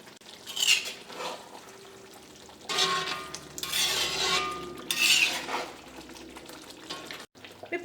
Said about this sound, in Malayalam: ഇനി നമുക്ക് കറി ഒന്ന് ഇളക്കിയിട്ട് കൊടുക്കാം.